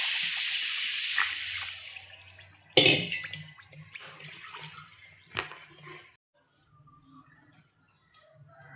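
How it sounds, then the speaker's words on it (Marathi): Water poured from a vessel over bajra millet grains set to soak overnight, a loud splashing pour with a few sharp clatters, then quieter trickling fading toward near silence. "आता यामध्ये पाणी घालून"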